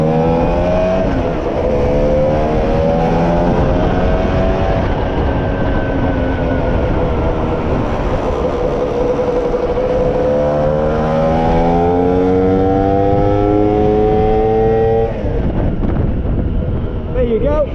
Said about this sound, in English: It revved all the way through the rev range there, didn't hold back, so it needs a jet.